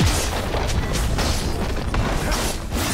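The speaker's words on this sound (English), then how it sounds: "Blue team's turret has been destroyed." A turret crumbles under attack during a Talon versus Zed mid-lane match in League of Legends, a dense rumbling boom with crunching debris and layered game effects, loud and sustained for a few seconds without speech.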